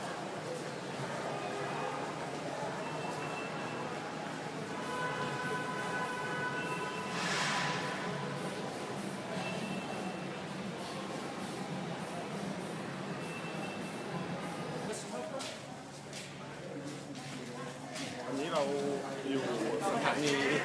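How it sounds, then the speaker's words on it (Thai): Busy indoor ambience at Hanoi railway station with a low rumble, scattered clatter and a crowd murmuring, and people talking throughout. "นี่ก็คือบรรยากาศในสถานีรถไฟฮานอย"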